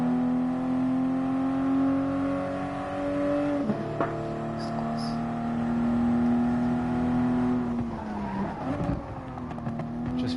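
GR Supra race cars roaring off the line at the start of a GT Cup race in a racing video game, engines droning steadily and rising in pitch as the pack accelerates, with a brief scrape and shifting tones near the end.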